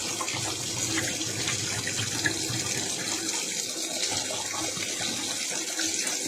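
Steady rushing, sloshing water flushing through the heater core of an Opel Vectra C, a continuous close wash of liquid with no pauses.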